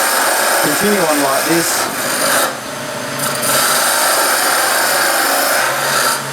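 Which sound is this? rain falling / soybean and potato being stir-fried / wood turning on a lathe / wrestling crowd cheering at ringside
wood turning on a lathe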